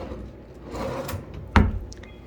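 A hotel room cabinet drawer is pulled open or pushed shut. Soft wooden scraping comes first, then one sharp knock close to the mic and a brief rattle, with no talking.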